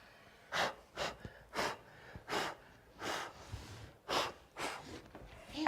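A person blows air across a furniture surface during restoration. Eight or nine short, soft puffs of breath come at a steady rhythm, close and fairly quiet, with no talking.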